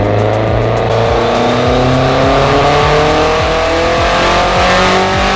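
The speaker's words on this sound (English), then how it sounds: "Doing one more pull on just the wastegate pressure" A turbocharged Honda engine runs a dyno pull on wastegate pressure, a loud sustained roar with engine pitch climbing steadily through the gears, close and continuous without talk.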